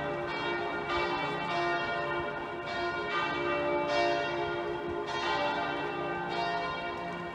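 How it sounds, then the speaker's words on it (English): Church bells of Bow Bells in London peal continuously in overlapping strokes, ringing out from a distance with a rich, sustained tone and no speech. "And there it is, the bells are starting ringing."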